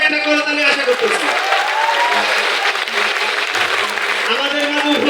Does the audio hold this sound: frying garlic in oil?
no